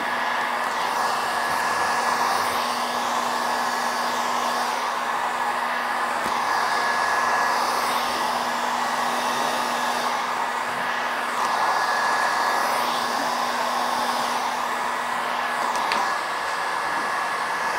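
A heat gun warming vinyl wrap film on a round table top, a steady airy blowing hiss with a faint constant hum, running continuously at close range with no speech.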